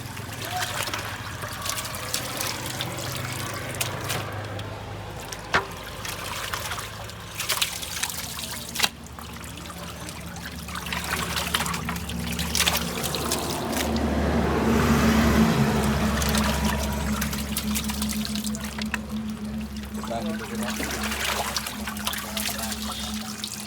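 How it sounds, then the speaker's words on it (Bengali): Water pours and trickles as meat is washed before cooking for Bogura-style alu ghanti, an uneven splashing stream swelling midway, with voices talking and a low background hum throughout. "মাংস ধুয়ে তারপরে পাক করতে হয়"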